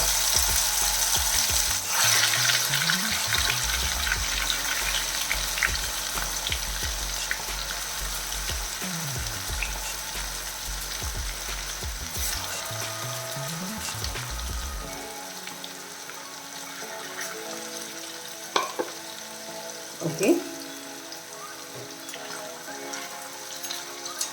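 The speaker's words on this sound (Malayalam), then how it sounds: "ഡീപ് ഫ്രൈ ചെയ്യണോണ്ട് കുറെ എണ്ണ ഒഴിക്കണം അതിൽ മുങ്ങി കിടന്ന് പൊരിച്ചെടുക്കണം" Marinated chicken pieces deep-fry in plenty of hot oil, a dense, loud, continuous bubbling sizzle close up, with a few utensil scrapes and knocks that thin out in the second half.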